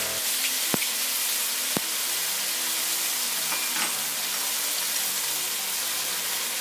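Holy basil with crispy pork being stir-fried in a pan as fish sauce goes in: a loud, continuous hissing sizzle throughout with a couple of sharp utensil knocks and some scraping, close and unbroken, no speech.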